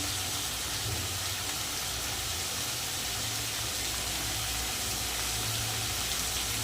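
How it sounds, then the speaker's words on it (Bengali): Vegetables sizzling in a hot pan as they fry to a light red, a steady dense hiss that holds evenly from start to finish with no pauses. "ভেজে নেব সবজিটা কিন্তু ভেজে নিচ্ছি হালকা লাল করে"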